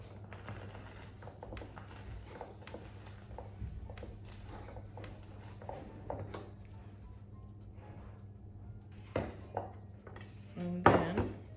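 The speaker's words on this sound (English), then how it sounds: "And then stir it about. I don't have a spoon, so I'm using a knife." A knife stirs a chopped tomato and bean burger mix in a bowl, giving light clinks and taps of the blade against the dish. Close and soft over a steady low hum, with a few louder knocks near the end.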